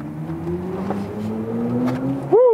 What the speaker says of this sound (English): That was 0 to 60 kilometers an hour. Wow, that went quick.